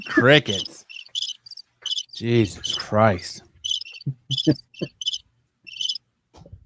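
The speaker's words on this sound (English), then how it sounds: "Fucking crickets." Crickets chirp in short, bright, regularly spaced trills, used as a sound effect, while a voice speaks loudly over the first half and the chirping continues more clearly after he stops.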